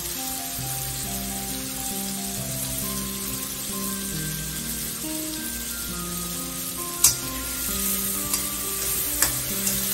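Carrots are stir-fried for vegetable fried rice, with a steady close sizzle and scraping stirring throughout and a few sharp clinks of the utensil against the pan near the end.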